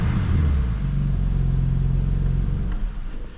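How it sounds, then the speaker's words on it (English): A BMW M2 G87 engine revs up and holds a deep, loud rumble before settling and fading slightly toward the end, heard up close with no speech. "give it one last rev before we switch it off"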